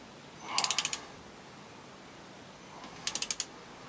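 Wrench turning the oil drain plug on a 2012 Suzuki DL650 V-Strom, two quick bursts of four or five sharp ratcheting clicks each, close and fairly faint, separated by quiet; no talking.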